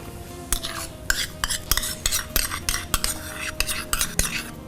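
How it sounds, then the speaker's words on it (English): Milk, white sugar and condensed milk are stirred together in a pot, a spoon clinking and scraping against the metal in quick, irregular strokes, close and fairly loud with no talk. "And we'll just slightly stir all this together"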